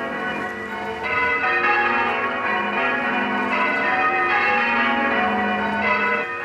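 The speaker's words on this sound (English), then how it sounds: "all the church bells of England, which had been silent for 2 years, should ring out" Several English church bells peal together in overlapping, continuous rings, a loud dense clangor with no voices.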